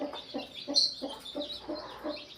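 A hen clucking steadily in a rhythmic series of soft, low clucks, close by, with faint higher chirps of chicks in the background.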